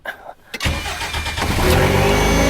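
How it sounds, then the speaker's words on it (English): A DeLorean fitted with an EcoBoost engine starts after a quiet pause: a short cranking burst, then the engine catches and settles into a loud, steady run that swells slightly toward the end. "First, let's see if it'll start."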